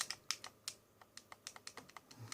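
Buttons on a handheld game console, such as a Game Boy Color, clicking in a quick irregular series of sharp, close taps, a dozen or so presses with no talking.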